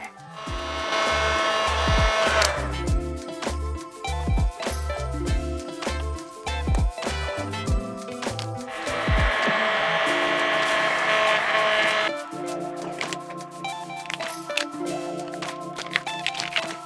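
Heat gun blowing on the stickers of a KTM 790 Duke motorcycle to loosen them, a loud airy roar in long bursts broken by clicks, taps and handling noises nearby.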